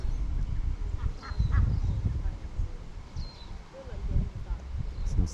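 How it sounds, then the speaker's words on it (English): Ducks near Richmond Bridge in Tasmania give a few faint quacks and honks against outdoor background noise and low rumble. "And here are some ducks."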